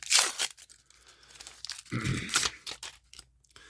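A Looney Tunes trading card foil pack is torn open up close with sharp ripping, followed by crinkling and a short crunchy tear of the wrapper.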